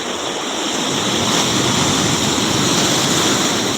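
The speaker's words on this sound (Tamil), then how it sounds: "இன்றைக்கெல்லாம் ரொம்ப ஆக்ரோஷமாக இருக்குது அலைகள் பாருங்கள்" Rough sea waves at Kottakkuppam beach roar as a constant, loud wash of surf, broad and unbroken, with some wind buffeting and no voices.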